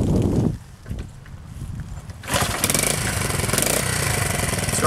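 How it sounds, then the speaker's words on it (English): A Honda CT70 trail motorcycle fires up after a quiet pause of soft handling noises, then settles into a loud, steady single-cylinder putter close by. "the bike starts easily and runs well."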